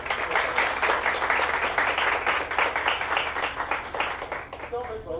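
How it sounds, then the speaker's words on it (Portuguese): A lecture-hall audience claps steadily for guest speaker Maurício at a university talk on employability, a dense, even wash of many hands lasting several seconds before easing off at the end. "Uma salva de palmas para Maurício"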